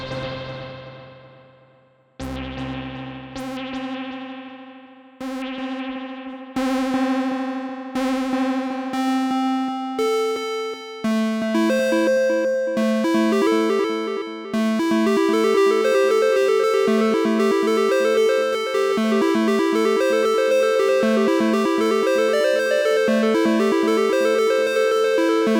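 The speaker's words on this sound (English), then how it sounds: "in Ableton Live, I went ahead and put a simple echo on my L1 track." Donner L1 monosynth playing a melodic line through a simple echo, notes starting sparse with repeating decays then building into a dense, continuous sequence of bright, buzzy tones that sound close and loud.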